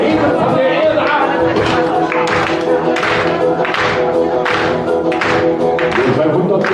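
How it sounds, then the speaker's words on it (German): An audience at a live show claps in steady rhythm to the beat of loud music with singing, the claps landing as regular, even bursts over the whole stretch. "lasst uns die Hände nach oben nehmen und klatschen wir zum Takt"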